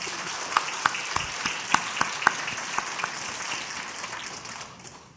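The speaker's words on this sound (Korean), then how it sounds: "박수해 줍시다." Church congregation applauding during a Sunday worship service, a steady wash of many hands with a few louder claps standing out near the front, fading toward the end.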